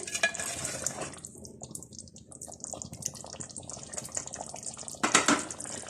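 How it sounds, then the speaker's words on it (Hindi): Mutton liver masala is stirred in a pan after salt, kasuri methi and black pepper are added, giving soft, scraping and sizzling sounds that are continuous and close, with a louder scrape near the end. "इसको हल्का सा इसमें मिक्स करेंगे।"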